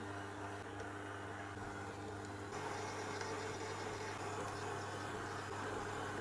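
A stand mixer runs steadily on medium speed, kneading a buttery dough as butter goes in bit by bit; a constant low motor hum with a faint whine holds evenly throughout, close and moderately loud with no talking.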